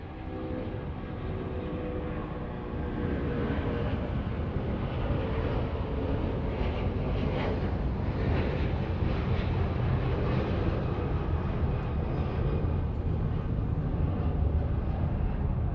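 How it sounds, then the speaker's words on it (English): An Air Canada Airbus A330-300 with Rolls-Royce Trent 700 engines passes at Los Angeles International Airport, a loud, sustained broadband jet roar that swells after a few seconds and holds steady throughout. "Definitely had the Rolls-Royce Trent 700 engines on it because that was loud."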